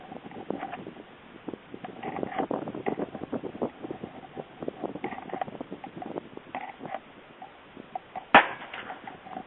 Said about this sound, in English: Wind is blowing bad today.